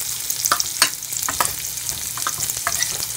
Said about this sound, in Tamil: வெங்காயம் கொஞ்சம் நல்லா வணங்கிட்டுங்க.